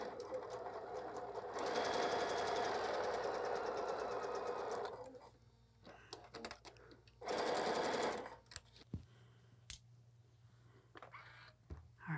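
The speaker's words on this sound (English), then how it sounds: "So I'm gonna take that to the machine and sew corner to corner." Sewing machine stitching a Christmas Eve quilt block corner to corner, a loud steady whirring run of about three seconds, then quieter handling noises and a second short burst of stitching.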